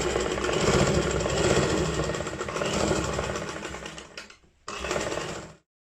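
A sewing machine runs steadily, stitching a French seam with a continuous motorized whir, briefly stops near the end, then restarts for a short burst before falling silent.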